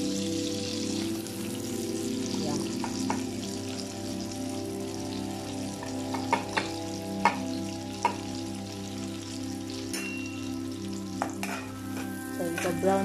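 Onion fries in a pan for a butter beef dish with a steady, close sizzle and a constant hum underneath, while a utensil stirs it with occasional sharp taps and scrapes against the pan.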